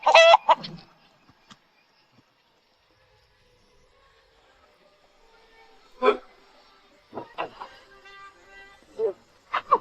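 Chickens cluck in a few short, close bursts, one at the very start and several more later, separated by stretches of near quiet.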